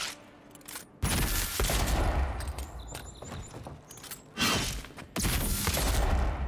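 Bursts of weapon fire from a gun in the fantasy video game Avowed, loud and dense, coming in two sustained volleys separated by a brief lull, with mechanical clicks in between.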